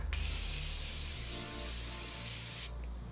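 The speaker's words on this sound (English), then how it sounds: "we're going to take our Morphe Continuous Setting Spray" A continuous hissing of setting spray mists onto a face for nearly three seconds, close and fairly soft, then cuts off abruptly.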